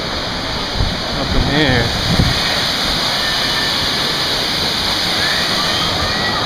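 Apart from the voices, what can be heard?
waterfall at Finger Lakes, standing under the spray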